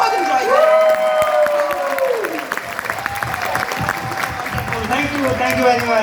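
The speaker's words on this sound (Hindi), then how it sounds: "जोरदार तालियां ऐश्वर्या मैम के लिए।" A seated audience applauds loudly and steadily at a stage event, with claps and scattered cheers, while a voice speaks over a microphone above the clapping throughout.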